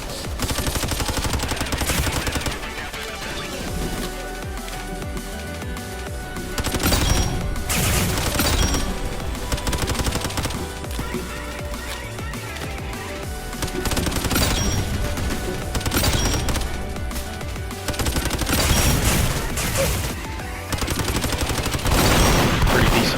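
Rapid bursts of SMG fire from the Roblox game Gun Game crackle loudly and almost continuously, with repeated stuttering volleys and occasional louder crashes layered throughout.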